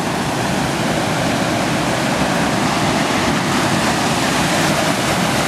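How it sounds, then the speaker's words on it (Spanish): Water from a lagoon flowing in a stream near a small dam in Valle de Santa Elena, a constant loud rushing wash that stays even throughout with no voices. "Y aquí está esta agüita que viene de allá de la laguna."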